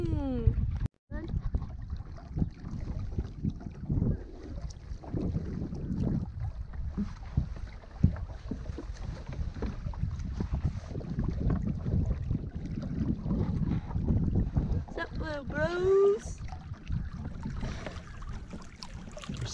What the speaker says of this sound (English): The wind just picks up and we go zoom